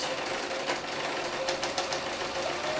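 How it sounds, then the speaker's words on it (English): A domestic sewing machine set for normal stitching runs steadily, sewing fabric scraps backed with Bondaweb, with a continuous even whirr and no pauses; no one speaks. "you can do this with your machine set for normal sewing"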